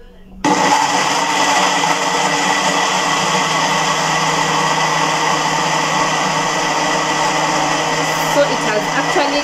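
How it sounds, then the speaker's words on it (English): An electric blender kicks on and whirs loudly at close range, a steady high-pitched motor roar as it purees porridge (uji) ingredients until smooth, running continuously without a break. "So I'm just going to blend everything until it's super smooth."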